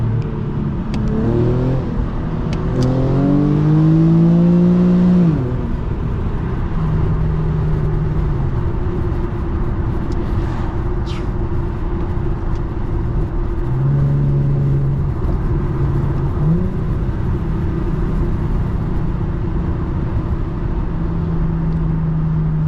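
An Infiniti G37 accelerates hard in third gear, its engine note climbing loud and close before easing off, then dropping back to a lower rumble and building again as the car cruises at night.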